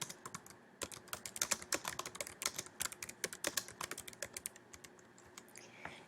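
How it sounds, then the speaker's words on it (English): Fast bursts of clicky keystrokes on a computer keyboard, close and fairly quiet, tapping in quick irregular runs with short pauses. "I'll type welcome as my title."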